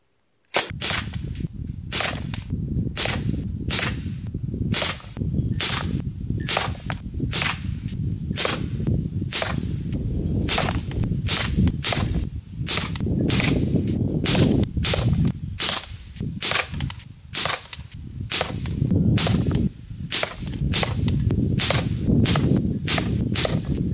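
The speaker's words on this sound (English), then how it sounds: "10 yards JSB 8 grain MPX 8 inch barrel 30 round group." A Sig Sauer MPX .177 air rifle on HPA, with an 8-inch barrel and 8-grain JSB pellets, fires about thirty sharp cracking shots at a 10-yard target, spaced roughly a second apart and loud over a low background hum.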